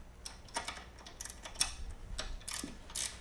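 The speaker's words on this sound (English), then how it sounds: "And you're using a 9/16 wrench for that? Yep, same cool guy ratchet wrench." A 9/16 ratchet wrench loosens bolts on a Hopkins screen printing press, giving quiet, close, irregular clicking bursts with short pauses between strokes.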